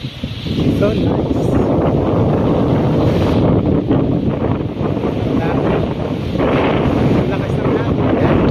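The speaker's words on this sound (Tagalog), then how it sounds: "Lakas ng hangin." Strong wind roars steadily across an outdoor microphone by the water in The Hague, Netherlands, a loud, unbroken broadband rush with gusting swells throughout.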